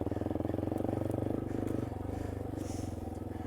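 A Yamaha XT250 single-cylinder engine pulls in second gear on tight single-track trail, a close, rapid, even putter with light clatter and scraping from the trail.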